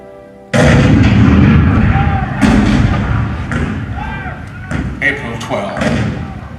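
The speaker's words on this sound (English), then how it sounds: "The cannon spoke for war, bitter, violent, and devastating." Cannon fire booms out in a theatrical show, opening with a sudden loud blast followed by further heavy thuds and rumbling reports, with a narrating voice speaking over the barrage.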